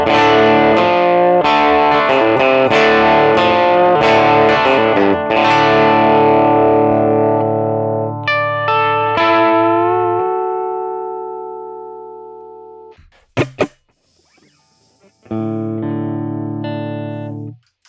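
Electric guitar riff played through a TONEX capture of a Princeton Reverb amp: loud chiming chords and single notes ring out, then a short muted pause, a couple of sharp string scrapes, and a final sustained chord.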